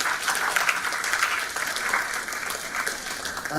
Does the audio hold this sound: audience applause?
yes